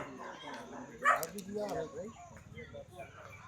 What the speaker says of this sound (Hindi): ये कुत्ते भौंक रहे हैं, इधर कुत्ते भी है।